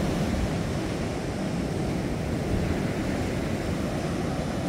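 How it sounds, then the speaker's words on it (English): Ocean waves at night by a campsite on the New South Wales coast, a steady, dense wash of surf rolling continuously with some wind noise on the microphone and no voices. "I love hearing the ocean."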